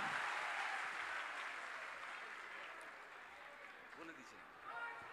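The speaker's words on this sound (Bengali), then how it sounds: "জোরে হাততালি দিয়ে স্বাগত জানান শুভেন্দু দাকে" A large BJP rally crowd at Balurghat applauds loudly to welcome the opposition leader to the stage. The dense, steady clapping starts full and slowly tapers off, with a brief swell near the end.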